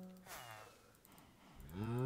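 A cow in the Skyblock video game moos in a low, drawn-out call that swells loudly toward the end, preceded by fainter game sounds.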